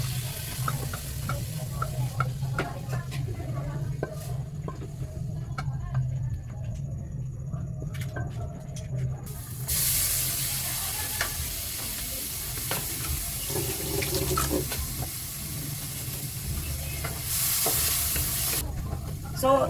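Fried chicken being stirred in a pan with pasta, a steady close sizzle with repeated scraping and stirring strokes, continuing throughout with a brief stretch of brighter, louder hiss in the middle.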